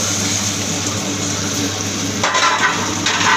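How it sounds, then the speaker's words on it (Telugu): Carrots and tomatoes frying in a pan give a steady, even sizzle with a soft background hum; about two seconds in a brighter hiss rises and holds, as if the vegetables were stirred. "క్యారెట్, టమోటా వేసుకొని బాగా వేయించాలి"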